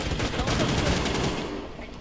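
Rapid gunfire in a Rambo video game: dense, continuous bursts of automatic shots that blur into a sustained roar, loud and close, then thinning slightly toward the end.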